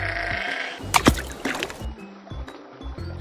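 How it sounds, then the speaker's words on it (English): A sheep bleats once in a short, wavering call near the middle, set against steady background music. "Sheep."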